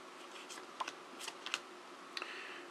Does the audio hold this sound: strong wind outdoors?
no